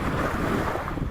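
Strong wind gusts buffet the microphone on the Lake Michigan shore at Indiana Dunes, a dense, loud roaring rush filling the whole second with no voices.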